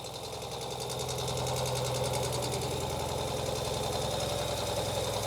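A 2023 Ural Gear Up 2WD sidecar motorcycle idles slightly high just after starting, a steady close-up rumble with a fast, even mechanical clatter throughout.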